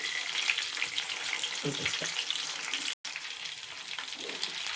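Chicken 65 pieces fry in oil over a low flame, giving a continuous soft crackling sizzle with small pops. A voice speaks briefly, and there is a short cut in the sound near the end.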